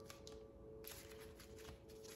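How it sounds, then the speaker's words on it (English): A deck of oracle cards is shuffled by hand during a quiet meditation reading, giving soft riffling and sliding bursts close to the microphone with no voice. "Okay, we're going to shuffle a little more."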